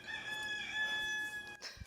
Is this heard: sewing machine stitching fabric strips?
no